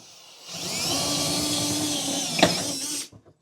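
A power drill with a half-inch bit whines steadily for a few seconds while enlarging a hole in a hitch mounting template, with a brief louder bite near the end before it winds down and stops.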